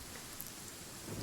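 Steady rain patters in the Genshin Impact video game, a soft, even wash of falling drops at low volume with no talk over it.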